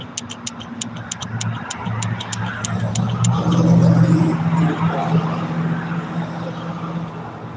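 Several cars drive past in a video game, forming a steady engine and road rumble with a louder pass in the middle, mixed with faint ticking and a voice.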